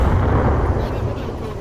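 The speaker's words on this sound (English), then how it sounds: "Grenade misses the window." A grenade explodes in the VR shooter Onward, a loud, deep, rumbling blast that decays over about a second and a half.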